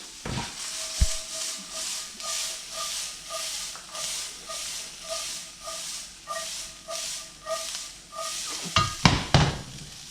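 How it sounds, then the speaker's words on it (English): Seasoned corn and onions sizzle and simmer in a pan with a steady, close hiss that pulses as the food is stirred, followed by a few clanks of a utensil against the pan near the end. "We're gonna let our corn simmer."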